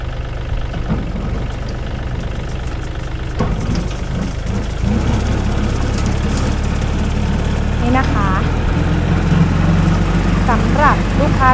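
A long-tail grass-cutter gear head, the kind used as a small boat motor, runs with a steady, moderately loud engine drone throughout, holding an even hum with faint rattling and a few chirpy noises near the end.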